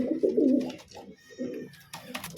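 Pigeons coo close by, a biscuit-coloured bird paired with a green one with red borders, their low throaty rolling calls rising and falling in several bursts with no talking.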